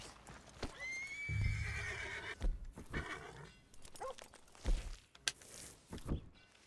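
A horse in Red Dead Redemption 2 whinnies loudly near the start, a long rising-then-falling neigh, followed by clip-clopping hooves and scattered footsteps with game ambience; no one talks.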